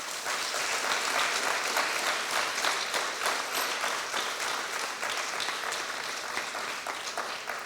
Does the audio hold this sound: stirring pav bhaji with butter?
no